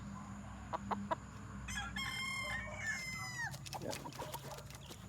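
A gamecock stag, a derby winner, clucks and crows at moderate distance, with a few short clucks followed by a stretched crowing call and more clucking amid faint farmyard noise.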